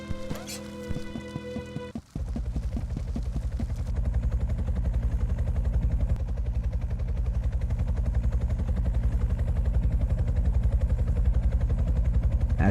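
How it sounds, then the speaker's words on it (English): A helicopter in the video game Horace passes overhead: a steady, loud rotor thrum with rhythmic chopping pulses that holds throughout, after a brief musical tone at the start. "As we sat waiting for the helicopter to pass, we continued chatting."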